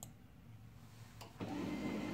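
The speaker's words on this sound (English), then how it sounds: "You can hear printer is running." A faint mechanical whir and hum of a Canon ImageCLASS MF217W printer running, with a click and a slightly louder motor sound kicking in partway through.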